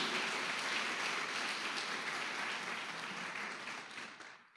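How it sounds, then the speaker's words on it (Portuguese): A church congregation applauds during a sermon, a dense, even wash of many hands clapping together that holds steady and then tapers off at the end. "Se você entendeu, aplauda o Senhor"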